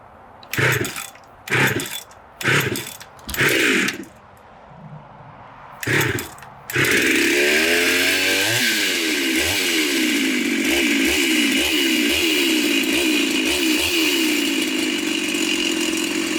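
Small engine with its muffler exhaust opened up, first blipped in several short revving bursts with pauses, then held running steadily with a loud, raspy, gurgling exhaust note close by.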